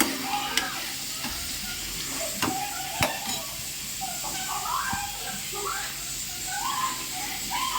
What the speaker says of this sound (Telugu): ఇలా కలిపేసి మొత్తం ఆనియన్స్ ఇలా కలుపుకుంటుంది చూడండి